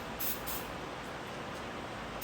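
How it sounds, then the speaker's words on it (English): Steady aerosol hiss of brake cleaner sprayed onto an oil drain plug during an oil change on a BMW X3 G01 with a B48 engine, continuous and close for about two seconds. "Just spray a little bit of brake cleaner on your drain plug"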